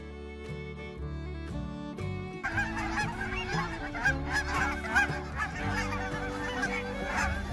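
Canada geese honk repeatedly, a dense overlapping chorus of calls that starts sparse and builds into a loud, continuous flock clamour, with no voices.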